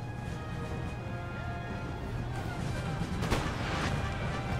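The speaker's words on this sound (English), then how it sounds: "Oh, excellent artillery shot." Artillery in a Napoleon Total War battle fires a single sharp shot that cracks over a continuous dense rumble of distant gunfire and battle noise.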